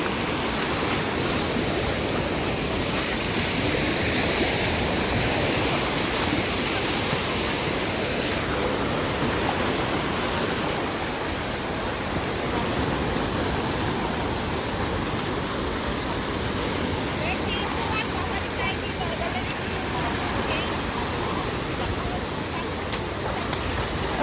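Surf breaks steadily along the seashore of a beach, a dense, unbroken wash of rushing water that stays loud and close for the whole stretch, with faint voices buried in it.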